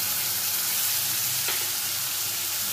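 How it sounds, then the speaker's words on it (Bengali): Cumin, coriander and dry chili powder mixed with water sizzle in a hot oil-filled frying pan for a curry, a loud steady hiss throughout with one brief stirring scrape. "এবার এর মধ্যে আমি জিরে, ধনে ও শুকনো লঙ্কার গুঁড়োটা জল দিয়ে গুলিয়ে রেখেছি সেটা অ্যাড করে দেব।"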